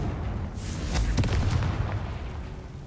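Confringo blasting spell explosions from the Hogwarts Legacy video game, a few deep booming bursts rumbling close together over a couple of seconds.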